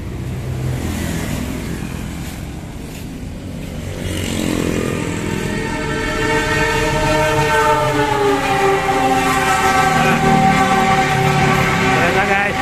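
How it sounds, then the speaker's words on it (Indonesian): A train passing near a housing area in Cirebon, its rumble building from a low background into a loud, sustained horn blast with layered tones that carries on over the rolling noise. "Oh, kereta."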